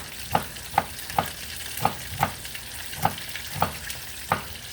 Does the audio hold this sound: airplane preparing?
no